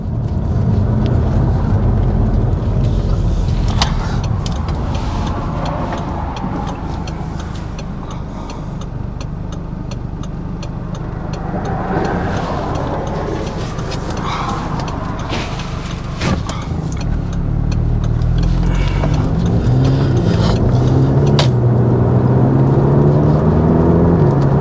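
Audi TT driving on the road with a DSG gearbox, giving a steady, fairly loud drone of engine and road noise with faint ticking throughout, no talk.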